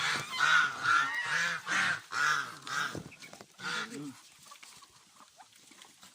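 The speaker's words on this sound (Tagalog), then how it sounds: "Nandito kami sa alagaan ng mga pato. Ayan o, ayan na sila. Gutom na gutom." Several ducks being fed quack loudly in quick, repeated bursts close by, then trail off into quieter rustling and pecking.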